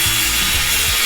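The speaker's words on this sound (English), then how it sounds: "we gotta cut our 4-foot piece" A wooden plank for a skateboard grind ledge is being sawn, giving loud, close, rasping saw strokes in quick back-and-forth rhythm throughout.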